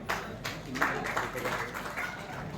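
An audience at a distribution ceremony breaks into sustained applause, a dense, even wash of clapping from many hands that holds steady throughout.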